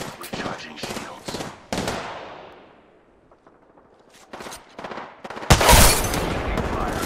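Bursts of close, loud automatic gunfire during an Apex Legends firefight against two enemy squads, coming in rapid clusters, then a quieter gap, then another heavy sustained burst near the end.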